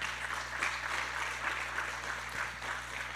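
A church congregation applauds after testimonies in a steady, moderate patter of clapping under a low constant hum, with faint voices mixed in.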